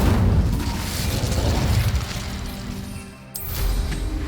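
A fire spell cast in Hogwarts Legacy gives a rumbling, booming burst of flame that roars steadily for a few seconds, dips briefly and flares up again, loud and close with no voices.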